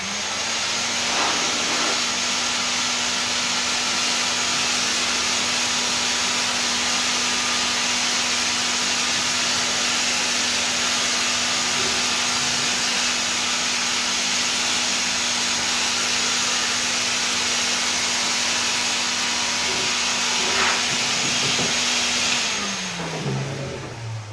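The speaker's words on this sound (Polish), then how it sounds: "Muszę przyznać, że ten spryskiwacz działa naprawdę fajnie, nawet lepiej niż się spodziewałem." An old Czajka 3 vacuum cleaner powers a water sprayer attachment, giving a loud, steady motor roar with a constant whine. The drone runs unbroken for over twenty seconds, then winds down in pitch as the machine switches off.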